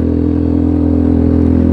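A Rusi Sigma Adventure 250 motorcycle is ridden at steady speed, its engine a loud, constant droning hum with a buzzy, even pulse and no voices.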